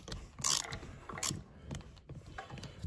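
A ratcheting screwdriver clicks in short bursts of quick, close mechanical ticks, with two sharper, louder clusters among softer intermittent clicks in a quiet room during building renovation work.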